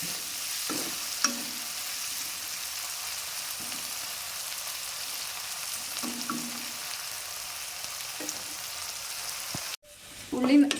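Onions sauté in a pan for a raw plantain stir-fry, giving a steady, close sizzle with occasional stirring scrapes before a brief clatter near the end.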